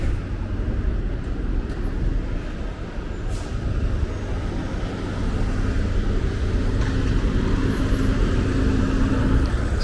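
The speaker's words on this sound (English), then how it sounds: "I will stand here and wait until this traffic is past me" Steady road traffic rolls past on Avenue U in Brooklyn, beneath the elevated F line tracks by the Avenue U station: a continuous close rumble of cars and buses with a brief air-brake hiss, no talking.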